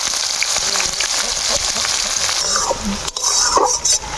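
Chopped medium onions fry in a pan for chicken kosha, giving a strong continuous sizzle close up, broken by metal utensil scrapes and clinks against the pan toward the end.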